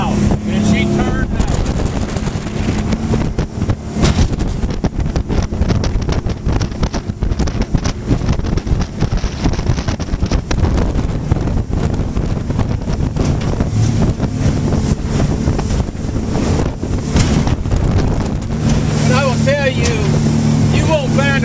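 A Suzuki 300 outboard on a 2011 Rabco 28 center console boat drones loudly and continuously while the hull slaps through a choppy head sea, with heavy wind buffeting the microphone throughout.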